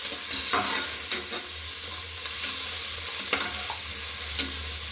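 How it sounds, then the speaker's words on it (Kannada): Sliced onions fry in oil for a vegetable pulao, a loud, continuous sizzle close by, punctuated by scraping stirs of a spatula in the pan, with no voices over it. "ಅದಾದಮೇಲೆ ಚೆನ್ನಾಗಿ ಇದು ಗೋಲ್ಡನ್ ಬ್ರೌನ್ ಆಗೋ ತನಕ ಫ್ರೈ ಮಾಡ್ಕೋಬೇಕು."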